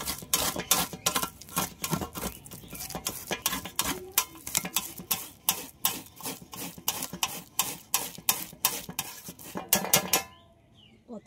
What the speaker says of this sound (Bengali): একটা গ্রেটার নিয়েছি, এই গ্রেটার দিয়ে আমি তালের পাল্পটা বের করে নেব।